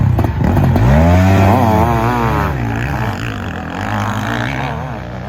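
A custom big bore Kawasaki KX500 two-stroke motorcycle engine revs loudly and close, its pitch rising and falling in sweeping bursts before settling into a rougher, steady idle.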